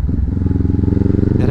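A motorcycle rides along an open road, its engine throbbing steadily and close with a pulsing rumble, and a brief change in sound near the end.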